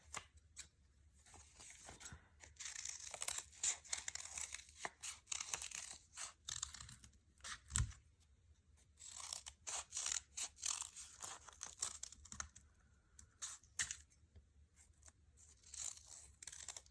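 Scissors snip through sheets of paper, including black paper, for a design project: quiet, quick cuts in a steady run of crisp clicks and rustles, with no voice.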